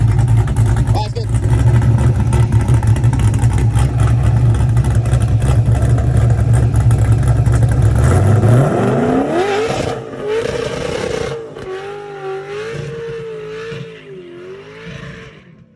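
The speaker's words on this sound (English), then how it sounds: "that was a burnout right there" A Chevrolet C10 pickup truck does a burnout: a loud, sustained engine roar with harsh tire noise holds for about eight seconds, then the revs wind down to a wavering idle while voices are heard nearby.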